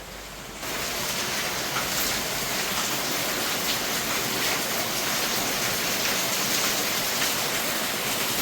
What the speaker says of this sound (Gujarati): જોર વરસાદ છે, જોર.